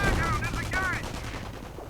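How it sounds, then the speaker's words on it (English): MG42 machine gun fire rattles through a video game battle, a sustained burst with whistling, wavering tones layered over it and a faint voice underneath. "No, that's an MG42."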